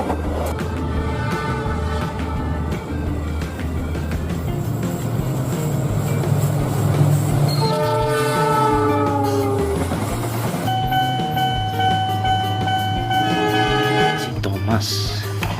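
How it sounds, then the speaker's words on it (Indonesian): A toy train runs in a children's toy play setting, giving a steady loud mechanical rumble with clicking and tonal whistle-like electronic sounds layered on top, and some voice in the background. "kereta api sih."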